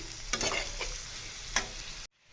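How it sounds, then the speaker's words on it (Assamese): Carrots for pickle being stirred in a hot pan, a steady close sizzle broken by a few scraping strokes of the spoon before it cuts off abruptly. "এতিয়া অকণমান এনেকৈ লৰাই দিম।"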